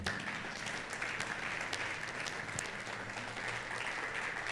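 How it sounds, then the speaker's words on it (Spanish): Church congregation applauding during a Sunday worship service, steady sustained clapping from a crowd of people filling the room evenly throughout. "¿Cuántos le dan un aplauso al Señor?"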